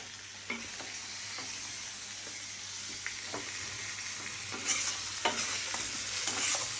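Goat meat stirred and fried in a pan, a steady close sizzle with repeated scraping strokes of a utensil against the pan, no talking.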